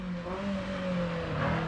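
A Renault Sport Spider race car with a 180-horsepower engine revs loudly and steadily, its rising and falling engine note holding close for under two seconds with no talk.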